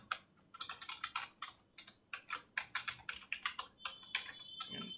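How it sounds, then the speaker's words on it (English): A username being typed on a computer keyboard: a quick run of crisp, close keystrokes in an uneven rhythm, each tap distinct, with no voices. "So now we'll go here and type my username."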